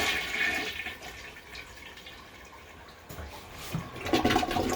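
A toilet flushes with a steady rushing swirl of water that fades slightly midway and then surges again into a gurgling drain toward the end. The sound is close and moderately loud, with no talking.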